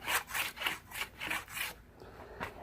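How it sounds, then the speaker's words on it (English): A hand plane strokes along a cedar walking stick in a steady rhythm of about six rasping, scraping passes, close and fairly quiet, followed by a pause and one last stroke. "I just keep planing it until I get it nice and smooth all the way around"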